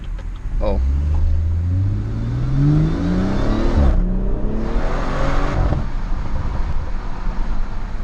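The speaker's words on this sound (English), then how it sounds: "It's been 2 years and I'm still not bored of this pull." A BMW 440i with a Stage 1 tune accelerates hard, its engine note climbing steadily through the revs in a loud continuous pull, with a brief shift break midway before it keeps rising.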